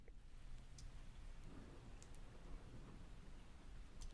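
Rain ambience from an ASMR recording, a steady broadband hiss of falling rain with scattered droplet ticks, fairly quiet and continuous throughout.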